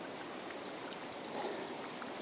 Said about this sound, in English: it's called the Hale Brook Trail for a reason, because it's through the brook